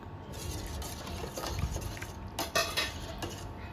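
Sago and crushed cardamom are stirred into payasam in a pot, giving soft scraping and clinks of a spoon against metal over a low bubbling background, with a few sharper knocks near the end and no voices.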